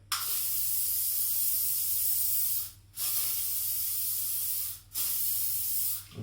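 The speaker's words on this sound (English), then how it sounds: "So just to set it, like I'm sure Larry Geller, his hairdresser, would have done in the movies, we're going to spray it." Elnet hairspray with argan oil hisses out in long, steady bursts to set a pompadour, three close sprays separated by brief pauses, with no talking.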